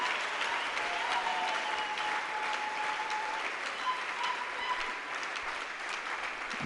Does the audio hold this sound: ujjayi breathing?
no